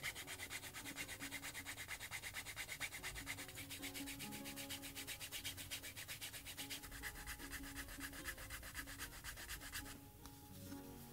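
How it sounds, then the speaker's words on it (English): A cotton cloth rubbed briskly along the vegetable-tanned leather edges of a handmade sneaker, producing a fast, steady back-and-forth scrubbing at close range that eases off slightly near the end. "Just go ahead and rub the edges with some energy."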